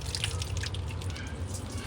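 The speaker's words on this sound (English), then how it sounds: "The water is now draining." Water from a freshly cleared HVAC condensate drain line drips and trickles steadily, close and fairly quiet, over a low background hum.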